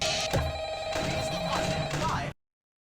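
A telephone rings in the Five Nights at Freddy's game, a steady electronic ring tone carrying for about two seconds under light game noise before cutting off abruptly.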